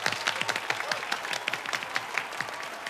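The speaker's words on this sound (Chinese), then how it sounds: "我们掌声欢迎 Michael 的脱口秀" A studio audience at a talk show claps steadily and densely for a stand-up comedy act, a continuous crowd applause lasting a few seconds with no voices over it.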